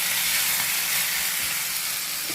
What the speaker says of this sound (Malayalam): വെളിച്ചെണ്ണയിലേക്ക് ഇടുക. അപ്പോൾ നല്ലോണം കിടന്ന് പൊരിയട്ടെ.